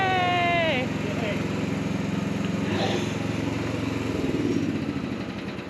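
A Chinese mini-excavator's engine runs steadily throughout, a continuous close mechanical drone with a brief whine and clatter at the start, no one speaking over it.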